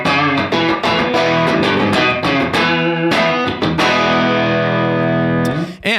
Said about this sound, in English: What you're hearing is actually a room reverb.